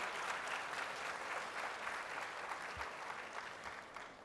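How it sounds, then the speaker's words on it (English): Audience at a Jewelers for Hope gala breaks into sustained, even applause, a dense wash of many hands clapping steadily for over four seconds before thinning slightly at the end. "let's have a big, warm round of applause"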